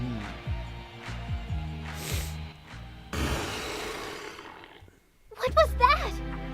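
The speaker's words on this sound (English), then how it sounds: "Ryu, what you just heard were monsters who live here in the Delusionscape." Monsters in the video game Akiba's Beat roar and growl in a maze-like Delusionscape, a few deep snarling bursts followed by a louder, harsher cry near the end, with game music underneath.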